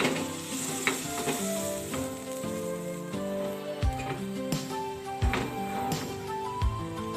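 Bear Brand milk is poured into a pan over low heat, giving a steady soft sizzle with occasional sharper clicks, partly masked by background music with clear tonal notes.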